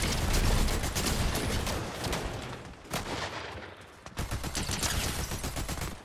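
Rapid, loud bursts of machine gun fire from a combat video game rattle continuously, with dense repeated shots and a short pause before another sustained volley.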